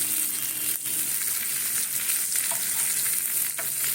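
Pieces of banana flower fry in oil in a pan with a dense, continuous sizzle, marked by occasional stirring scrapes and taps close by.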